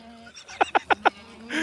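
Four short, evenly spaced bleats from the farm's extra goats and kids, close by and fairly loud, rising out of a quiet outdoor background, with a brief burst of rushing noise at the end.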